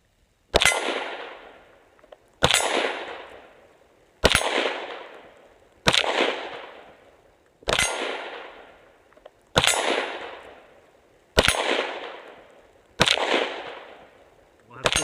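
Glock 19 pistol shots at a shooting range, eight sharp, evenly spaced reports about two seconds apart, each ringing out with a decaying echo, with quiet between them.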